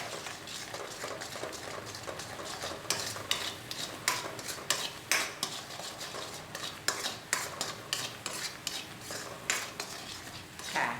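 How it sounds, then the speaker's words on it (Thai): A pot of Chinese herbal braised pork broth simmers while a utensil stirs it, giving repeated clinks and scrapes against the pot over a soft, steady bubbling hiss. "เดือดแล้วนะคะ เราเคี่ยวหน่อย"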